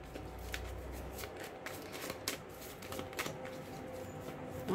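Tarot cards are shuffled by hand before a reading, with a soft continuous riffle of flicking and sliding card edges, close up and fairly quiet with no voices.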